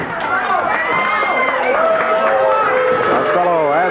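A ringside crowd at a 1986 Memphis wrestling show gives a loud, sustained reaction of mixed shouting and babble, heard under a commentator's talk.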